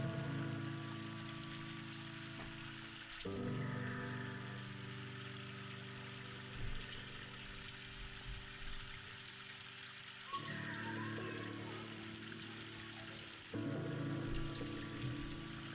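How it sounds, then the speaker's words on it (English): Rain picking up outside at the end of August, a steady soft patter and drizzle heard from indoors over a low room hum, with faint shifts in intensity and no voices. "rain started to pick up a little bit"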